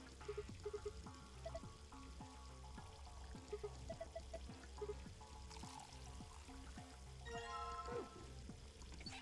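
Water pours from a faucet in a video game, a steady stream running under looping game music with a brief louder gush near the end.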